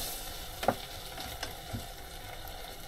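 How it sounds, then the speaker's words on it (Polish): Wine poured in with onion in a frying pan, reducing with a soft, faint sizzle and a couple of light stirring clicks. "O, cebulka już, mogę dodać wino. Dodaję wino. Teraz winko będzie mi się redukowało."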